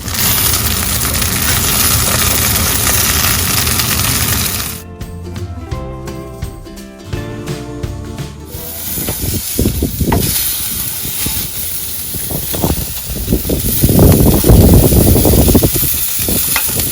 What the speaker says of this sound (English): Skin side down right there. We're going to sear that for about 4 minutes so the skin's nice and crispy.